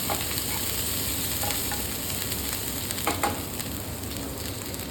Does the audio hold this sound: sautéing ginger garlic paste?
yes